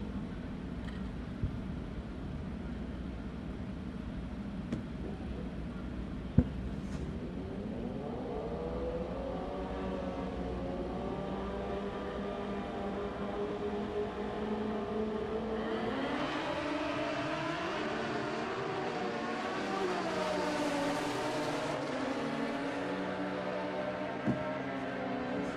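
Drag racing motorcycles on a racetrack, heard as a distant engine roar that rises steadily in pitch as the bikes accelerate, then swells and fades again, with no voices.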